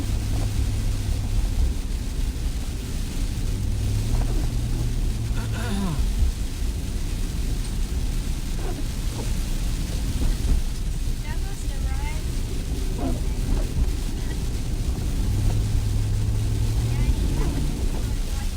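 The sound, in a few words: car driving through wet slushy rain and snow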